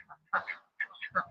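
Muscovy ducks on a homestead give short, nasal quacking calls in scattered bursts, close by and moderately loud, with brief quiet gaps between calls.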